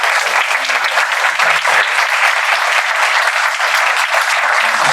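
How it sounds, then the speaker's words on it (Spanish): Loud, sustained applause from an audience at a talk on Frankenstein and artificial intelligence, a dense wash of many hands clapping close by without pause for the full length. "Les voy a pedir un aplauso muy grande para Roberto."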